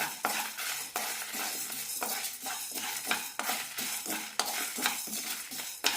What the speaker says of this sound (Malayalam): രണ്ട് 3 മിനിറ്റ് ലോ ഫ്ലെയിമിലിട്ട് നന്നായി വറുത്തെടുക്കണം.